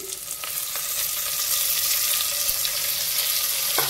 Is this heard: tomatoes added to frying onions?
yes